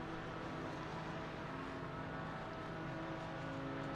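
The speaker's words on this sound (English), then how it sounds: "Everybody letting that Porsche Cayman engine scream." Several Porsche Cayman race cars hold their engines at a steady, loud droning rev on the grid before a race start, a continuous sustained engine roar with no talk over it.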